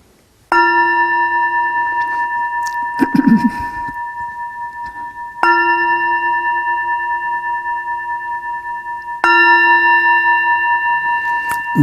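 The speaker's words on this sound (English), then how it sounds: "I send my heart along with the sound of this bell." A meditation bell is rung three times at an evening Sangha gathering, each strike leaving a clear, sustained ringing tone that slowly fades before the next, with a brief rustle between the first two strokes.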